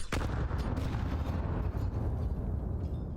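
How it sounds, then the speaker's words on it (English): Heavy booming blasts roll on continuously in a Counter-Strike 2 pro match, with grenade explosions and gunfire merging into a loud, dense wall of battle noise and a sharp burst near the start. "2 nades from Rugs, dunks on Axile"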